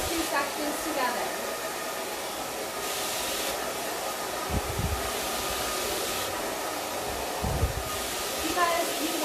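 Hair dryer blowing hair dry with a paddle brush, a steady close airy roar that swells and eases as it moves, with faint brush thumps and a voice murmuring quietly underneath.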